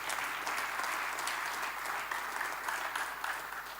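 A church congregation claps in a continuous, lively round of applause that holds at an even level from start to finish.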